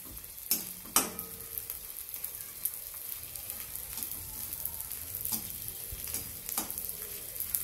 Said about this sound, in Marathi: सर्व डिंक अशा पद्धतीने तळून घेऊ आपण